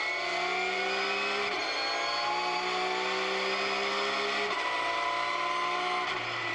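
Racing cars barrel around a circuit, engines droning at high revs with rising and falling tones as they shift and pass, several cars overlapping in a continuous mid-distance roar.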